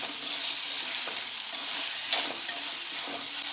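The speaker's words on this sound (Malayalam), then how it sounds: "ഉപ്പിട്ട് കൊടുത്താൽ സവോള പെട്ടെന്ന് വഴന്ന് കിട്ടും." Onions sauté with salt in a pan, giving a steady, close, even sizzle with faint stirring scrapes and no talking.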